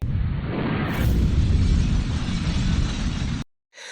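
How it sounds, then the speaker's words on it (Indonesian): A huge film explosion from a chemical capsule breaking roars out as a loud, sustained rumbling blast lasting several seconds, then cuts off abruptly into brief quiet. "jika kapsul itu pecah, maka terjadilah sebuah ledakan dahsyat seperti ini"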